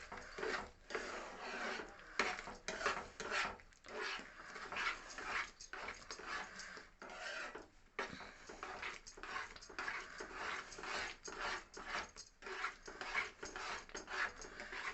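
Karachi halwa stirred with ghee in a pan gives a steady run of soft scraping and rubbing strokes, quiet and close, continuing without pause.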